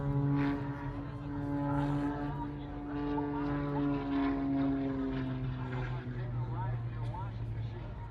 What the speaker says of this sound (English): The airplane's looking crazy.